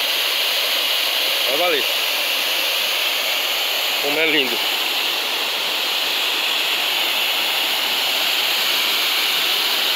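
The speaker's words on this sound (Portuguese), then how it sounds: "Olha lá. A cachoeira." A steady rushing waterfall on the Tapacurá River fills the background, broad and continuous, while a person speaks briefly twice over it in Portuguese.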